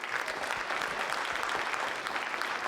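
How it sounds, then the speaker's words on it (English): Steady applause from an audience at a technology talk as the next presenter is introduced, an even wash of many hands clapping, moderately loud and continuous. "Applause."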